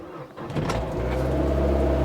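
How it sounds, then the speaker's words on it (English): A 2008 Mazda MX5 2.0 roadster coupe cranks briefly, then its engine catches and settles into a steady, close, loud idle with a low rumble. "We'll turn this car over,"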